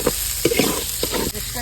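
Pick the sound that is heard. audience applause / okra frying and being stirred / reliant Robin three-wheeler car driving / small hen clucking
okra frying and being stirred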